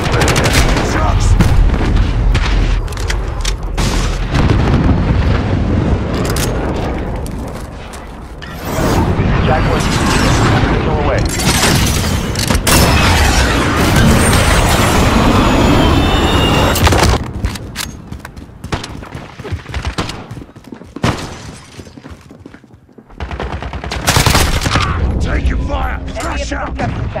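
Loud gunfire in Call of Duty: Modern Warfare multiplayer: dense rapid bursts and booming explosions across the whole stretch, briefly thinning near the end before the firing picks up again.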